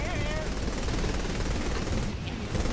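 Dense, continuous machine-gun fire rattles without a break as helicopters are shot down in Saints Row: The Third Remastered, loud and close throughout, with a faint voice over it.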